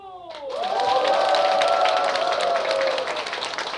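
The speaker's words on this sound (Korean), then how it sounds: "박수!" Audience of mothers at a Korean music performance breaks into applause right after a countdown, a dense clapping wash that swells quickly and holds steady, with some crowd voices mixed in.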